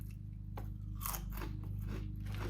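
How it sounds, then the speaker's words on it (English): Crunching on hickory sticks, a thin potato stick snack, with a few crisp bites and chewing crackles over a steady low background hum, close to the mic and without talk. "On the back it says hickory sticks. Love them for the crunch, love them for the munch"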